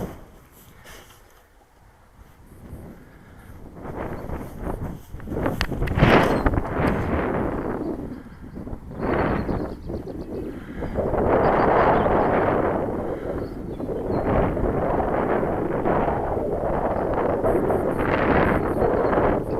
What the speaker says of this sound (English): Yeah, the wind is just proving to be too strong.